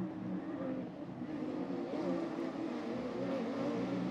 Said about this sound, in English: We have cars going up the hill.